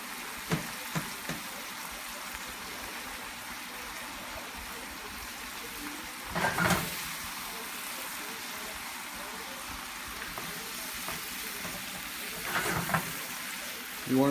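Ground pork with basil sauce sizzles and reduces in a pan, a steady soft frying hiss with a couple of louder clatters of stirring.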